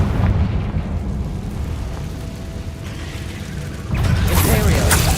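Confringo blasting spell cast in Hogwarts Legacy, a steady rumbling game soundscape that erupts into a loud, sustained fiery blast with crackling debris near the end.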